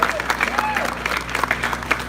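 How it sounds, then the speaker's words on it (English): A nice round of applause for Weston at a channel's 100k subscriber celebration, steady clapping across the whole moment with some voices and music audible underneath. "Let's hear a nice round of applause for Weston."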